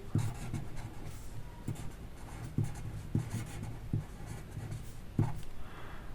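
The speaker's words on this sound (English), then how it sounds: "So we write the English translation for this." Handwriting in Arabic and English during a beginner lesson, a pen scratching and tapping faintly on paper in short, irregular strokes, close and quiet, with no talking.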